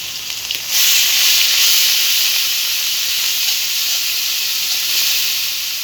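Ginger, garlic and onion spice paste with turmeric and chili fries for a koi fish curry, a loud steady hiss that swells abruptly after a moment and holds close.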